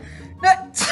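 A narrator's voice imitates an elderly grandmother's sneeze: a sharp indrawn gasp followed by a loud, breathy burst, close and alone.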